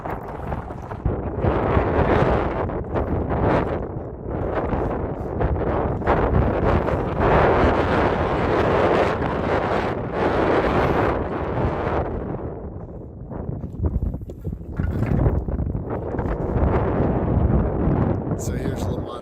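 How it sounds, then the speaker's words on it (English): Strong wind roars across an exposed mountain peak in Nevada's Spring Mountains, buffeting the microphone in a loud, steady rush that surges and dips for the whole stretch. "Yes, and a lot of wind."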